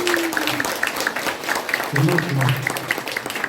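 A crowd claps and applauds continuously at a centenary commemoration of Han Yong-un's poetry collection 'The Silence of Love' while a person speaks briefly over the clapping.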